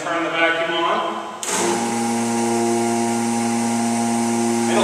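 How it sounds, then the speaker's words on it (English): A vacuum pump switches on partway through and sucks air out of a clamped vacuum bag holding a solid wood longboard layup, settling into a steady, loud mechanical drone after a short stretch of background noise. "go ahead and turn the vacuum on"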